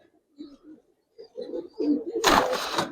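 Male giribaz pigeon cooing in soft, low, repeated murmurs nearby, followed by a sudden burst of flapping or rustling noise near the end.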